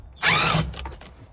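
A 10mm socket on a power driver undoes a bolt under a housing on a 2021-2025 Toyota Sienna: a short, loud whirring burst of about half a second, followed by faint clicks and rattles, with no talking.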